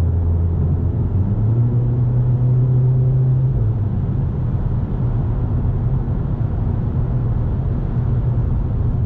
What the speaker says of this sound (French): On va accélérer à 130 pour voir.